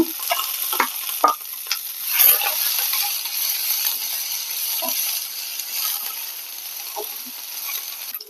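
Black pepper, fenugreek seeds and a piece of ginger fry in a pan, a soft steady sizzle broken by several short clicks and scrapes of stirring, with no one talking.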